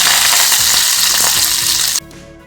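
Garlic, green chili, ginger and curry leaves sautéing in sesame oil with mustard seeds for a lemon pickle, a loud close crackling sizzle with stirring that cuts off abruptly near the end.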